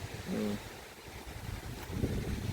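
Strong wind blowing outdoors at a Thai village home during floor tiling work, a steady rushing roar with gusty swells, loud and close on the microphone, no talking.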